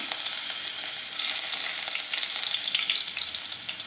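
Ginger and then garlic hit hot oil in a pan for chicken gravy, a loud, close, continuous sizzle and crackle with no voices over it.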